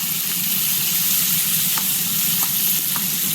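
Rohu fish pieces fry in hot oil in a pan, giving a close, loud, continuous sizzle with a few faint pops and crackles and no talking.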